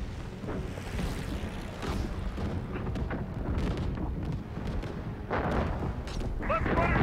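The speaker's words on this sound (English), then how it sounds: "Heads up, we got more flak." Anti-aircraft flak bursting around bombers in Call of Duty: WWII, a constant rumbling barrage of booms and engine drone, with people talking over the din.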